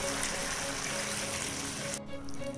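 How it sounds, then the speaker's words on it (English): A glass of water poured into mutton rogan josh curry in a cooking pot, a continuous splashing trickle that cuts off abruptly near the end, with a brief pause before faint sound resumes. "I'm now going to add 1 glass of water to it"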